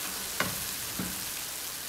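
Tomatoes added to a hot, oily pan while cooking chana pulao: a continuous, fairly loud frying sizzle with two brief clicks of a utensil near the start, and no voices.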